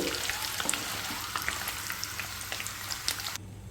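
Eggs fry in hot oil with a steady, close sizzle and scattered pops and crackles, which cut off abruptly near the end, with no talk.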